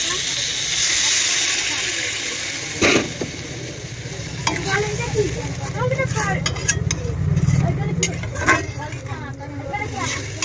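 Water goes into a hot pot of curry and hisses, with a sharp clatter, a steady sizzle and bubbling, and someone talking now and then over the cooking.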